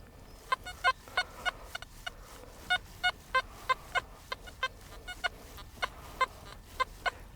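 Metal detector sounding short choppy beeps over an iron target, a broken series of quick electronic tones in uneven bursts against quiet outdoor background.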